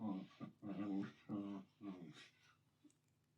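Dogs whimper faintly in a few short, whiny bursts, with small pauses between them and quieter breathy sounds trailing off at the end.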